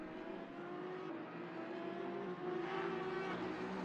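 A GT3 race car speeds out of the pit lane in a sim racing championship, its engine a steady, droning whine that climbs slightly in pitch as it accelerates, moderately loud and alone.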